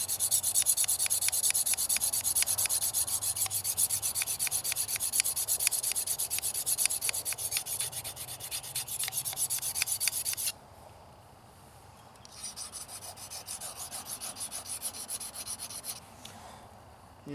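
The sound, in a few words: deburring the back side of a crook knife blade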